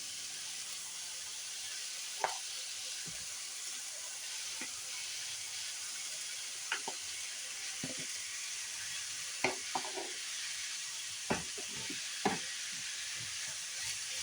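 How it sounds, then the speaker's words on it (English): Rice frying in cooking oil with onions and garlic, a steady bright sizzle throughout, with occasional scraping clicks of a spoon stirring it around the pan, close and continuous with no talking. "So just the rice stirred up here."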